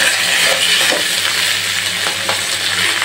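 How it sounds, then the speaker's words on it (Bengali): Lentils frying in a pan with bay leaf, cinnamon and cardamom, a steady loud sizzle with occasional stirring scrapes throughout, no talking. "ডালটা দিয়ে ভালো করে ভেজে নিচ্ছি এর ভিতরে মশলাপাতি দিয়ে দিচ্ছি তেজপাতা দারচিনি এলাচ দিয়ে ভালোভাবে ভেজে নেব"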